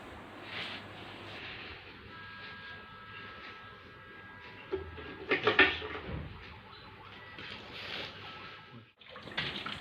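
Water runs steadily while a snake cage for a Malayan pit viper is washed out, a continuous rushing hiss with a burst of knocks and clatter midway and a short break near the end.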